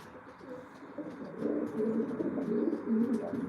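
Racing pigeons coo softly nearby in low, throaty, overlapping murmurs that swell in the second half, with a few faint chirps and no voices.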